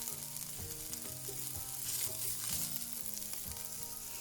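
Yakisoba vegetables stir-fry in a hot, well-oiled pan, a steady sizzle running throughout with intermittent clacks and scrapes of stirring.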